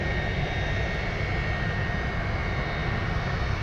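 A Boeing C-17 military cargo jet maneuvering at Anchorage airport, heard as a steady, broad, distant jet roar that holds at an even level throughout with no talk.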